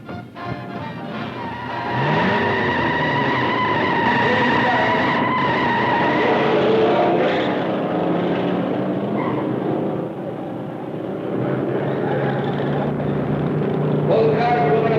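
Racing cars, among them a Ford Thunderbird, roar past at speed in a film race, with loud sustained engine noise and rising tones throughout and a commentator's voice running over the top.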